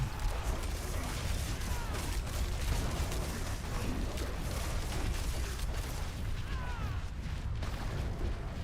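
Dense, continuous video-game battle din with layered booms and rumbling blasts, mechanical clatter and crackling debris running steadily at moderate loudness throughout, with no clear pauses.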